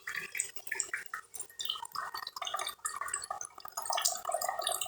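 Water pours and splashes into a cooking pot while a dish of tomatoes is being prepared, a busy, uneven stream of drips and gurgles that stays close and fairly loud throughout.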